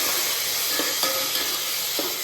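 Potato, chickpeas, peanuts and field beans sauté in a pan, giving a steady broadband sizzle with a few soft stirring scrapes; no one speaks.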